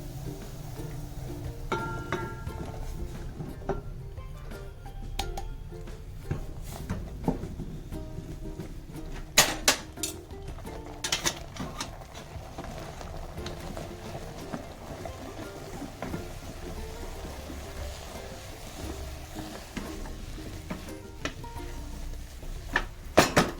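Flour being stirred and beaten into boiling water with a spoon of oil in a pot for Maharashtrian maswadi dough: steady scraping and clattering from the pot, with a few sharper knocks, close and fairly quiet, no talk.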